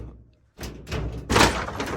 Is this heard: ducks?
no